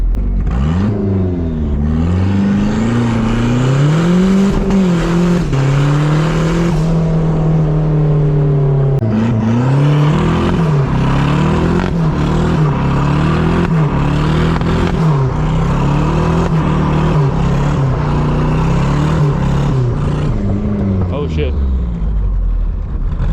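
A cheap turbocharged Nissan 240SX drift car revs hard while spinning a donut, its engine note rising and falling in repeated loud sweeps up close before winding down at the end.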